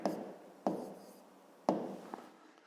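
A pen writes numbers on paper during a 5th-grade long-division exercise, three short scratchy strokes spaced about a second apart, close and quiet.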